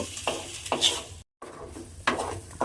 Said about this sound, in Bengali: এবারে আমি আদা আর কাঁচা লঙ্কাটা দিয়ে আবারও একটু নাড়াচাড়া করে ভাজা করে নেব